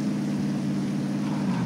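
A steady, droning motorboat engine in a battle royale video game hums continuously at a constant pitch, loud and close, with no voices over it.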